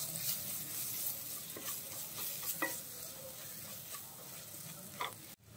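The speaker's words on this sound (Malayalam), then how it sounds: "ഇനി ഈ മസാലകളുടെ പച്ചമണം മാറുന്നത് വരെ നന്നായിട്ടൊന്ന് വഴിച്ചെടുക്കാം." Spice masala with black pepper powder and turmeric sautéing in a pan for a Kerala fish pollichathu, a soft steady sizzle with scattered scraping stir strokes and a light clink near the end.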